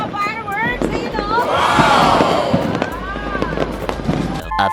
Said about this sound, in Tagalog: Ang ganda ng mga fireworks!